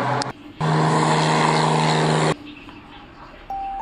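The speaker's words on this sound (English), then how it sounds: "The aeroplane is going to take off." A cartoon aeroplane taking off and flying, a loud steady engine drone with a low humming tone that starts abruptly and cuts off after about two seconds, bracketed by brief quieter sounds.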